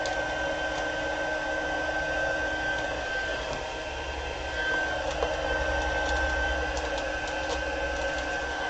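A heat embossing tool blows steadily while melting enamel, a constant close whirring hiss with a thin high whine that holds unbroken throughout.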